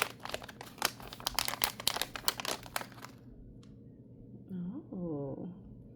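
A crinkly plastic blind bag holding a My Little Pony mini walker pony toy is torn open, giving about three seconds of loud, close crackling and rustling, followed by a person speaking briefly.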